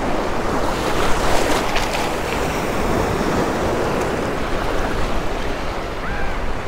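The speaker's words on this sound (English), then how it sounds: "Feels like it's way too wavy out" Steady, loud roar of ocean surf breaking on a Florida beach during surf fishing, a continuous wash of waves with heavy wind buffeting the microphone and no voices.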